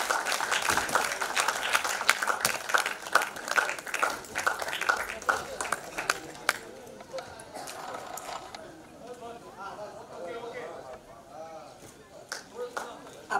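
Audience at the music launch of the Marathi film Mission Ayodhya claps loudly and rhythmically at first, then the applause thins out while a voice speaks over the fading claps.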